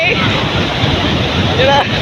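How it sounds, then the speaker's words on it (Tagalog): Big sea waves surge and crash in a loud, rushing roar, with wind buffeting the microphone and the water swelling louder toward the end. "Ayan na naman ang alon. Laki!"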